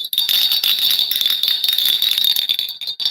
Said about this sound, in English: It sounded like Christmas bells and people singing Christmas songs.